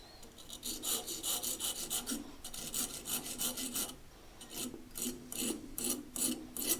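Rasping scrape on a 20-year-old Vaillant Turbomax boiler part, a series of close, repeated strokes with short pauses between bursts.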